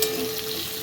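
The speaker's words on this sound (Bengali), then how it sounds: "কড়ার মধ্যে জিরে আর এই শুকনো লঙ্কা ফোড়ন দিয়েছি, দিয়ে আর পেঁয়াজটাও দিয়ে দিয়েছি" Onion, cumin seeds and dried red chillies fry in oil in a wok, giving a steady, close sizzle with faint crackle that carries evenly throughout without pause or talk.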